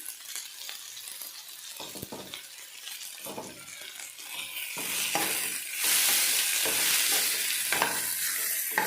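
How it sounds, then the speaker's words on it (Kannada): Onions and coriander leaves fry and sizzle steadily in a pan, with scraping stirs and occasional light clinks over a continuous hiss that swells louder partway through. "ಸೊ ಇದನ್ನು ಚೆನ್ನಾಗಿ ಫ್ರೈ ಮಾಡ್ಕೋಬೇಕು."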